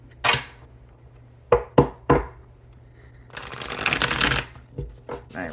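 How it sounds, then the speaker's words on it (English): A tarot deck is riffled and bridged in a few quick bursts, then a longer crackling riffle, close and crisp in a quiet room. "so let's try one more good shuffle"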